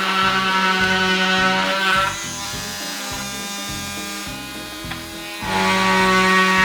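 A small electric oscillating multi-tool whines at a high buzzing pitch, dropping to a lower, rougher tone under load while cutting wood, then rising again as it runs free.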